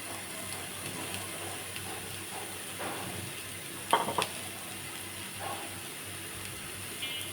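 Chopped onions and a few garlic cloves fry in a frying pan for beef trotter curry, giving a steady soft sizzle with a brief clatter of stirring midway and no voices.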